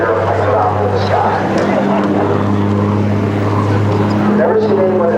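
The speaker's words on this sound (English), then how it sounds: "Bob is just climbing the airplane now, doing a series of rolls to get some altitude" An Aero Commander twin-engine propeller airplane climbs and rolls through aerobatics, its steady droning engine hum continuous and fairly loud while a commentator talks over it.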